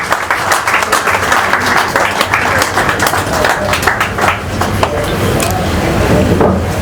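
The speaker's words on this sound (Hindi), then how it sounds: "एक बार जोरदार तालियां हो जाए सबके बाद।" A crowd at a ribbon-cutting event for a women's employment initiative claps loudly and continuously, a thick close wash of many hands with slight swells and a few sharper individual claps.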